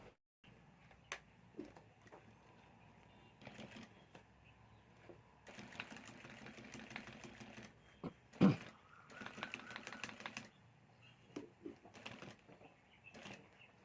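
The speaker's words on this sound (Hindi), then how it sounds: "तो यहाँ से मैं सिलाई शुरू कर देता हूँ।" A sewing machine stitches a clutch bag in short, quiet bursts of rapid mechanical chatter, separated by pauses and soft handling clicks in an otherwise still room.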